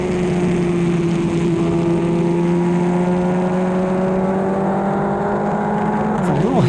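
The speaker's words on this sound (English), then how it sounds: "A little hesitation in the engine right there." A Formula 4 race car's engine drones loud and steady on the Circuit of the Americas track during a SpeedTour race, then stumbles in a brief hesitation near the end.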